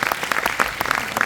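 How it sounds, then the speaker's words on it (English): Audience applause at a speaking event, a brief burst of steady clapping from many hands, moderately loud and close. "Let's give a round of applause again."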